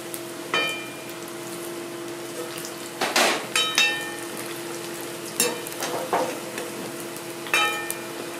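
Lailon Teka fish cutlets fry in a pan of hot oil, giving a steady low sizzle broken by several sharp crackling bursts and spatters near the mic, with no talking.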